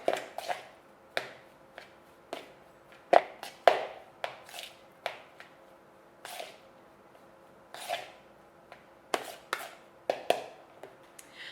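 Fluffy couscous being mixed in a bowl, a close, quiet series of irregular soft taps and scrapes with brief gaps between strokes, alone without talking.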